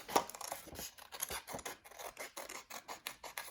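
Scissors cut paper around a drawn circle in a steady series of close, crisp snips and rasping slides, with no voices.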